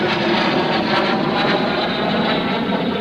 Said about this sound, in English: Here he is again in another pass, L-39.